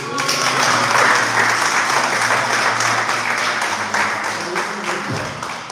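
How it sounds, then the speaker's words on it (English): A dance workshop audience breaks into sustained applause, many hands clapping steadily at close range, with a faint tonal backing underneath before the clapping thins near the end. "Applause right here"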